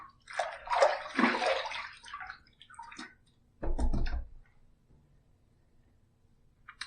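A razor being rinsed under running water, a couple of bursts of splashing flow close by, the second shorter, separated by quiet pauses with faint clicks.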